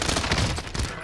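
Rapid gunfire crackles through a Call of Duty Warzone match, a dense burst of close shots running for about a second with no talk over it.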